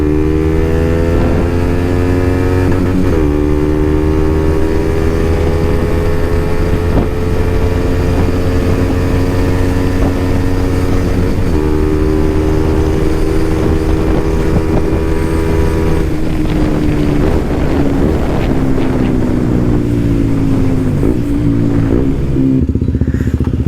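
A KTM Duke 125 motorcycle accelerates through the gears with rising engine whine, a few shifts and dips in pitch, heard close up with heavy wind buffeting the microphone.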